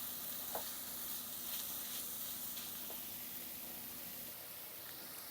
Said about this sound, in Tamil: தக்காளி வதங்கிச்சுப்பா, போதும்.